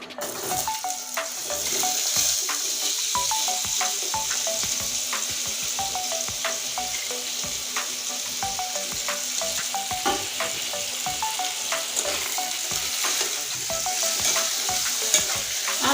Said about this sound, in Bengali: তেলের ভিতরে এখানে আছে আলু এই আলুটা এখন ছেড়ে দিচ্ছি তেলে